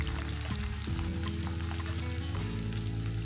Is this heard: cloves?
yes